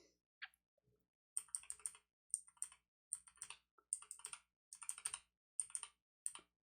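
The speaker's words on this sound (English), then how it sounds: "This is a speed gold. Very clicky." Bursts of sharp, clicky keystrokes from Kailh Speed Gold keyboard switches, typed in quick clusters with short pauses between them, close and fairly quiet, with no talking.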